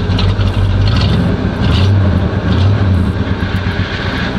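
Oldsmobile Cutlass engine running loud and lumpy with a cam-like rumble, a steady close roar with swells in pitch as it revs over about four seconds.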